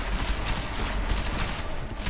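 Dense, continuous rattle of battle rifle fire in the Deus Ex: Mankind Divided video game, a steady close barrage of overlapping shots without pause.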